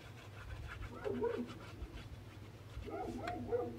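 Dogs bark and whine in two short bursts, a little way off, over a low background hum.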